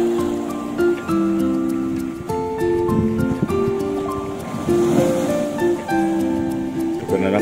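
Large ocean waves break and wash along a beach jetty at Sawangan, a steady close roar of surf with surging swells, while background music plays throughout.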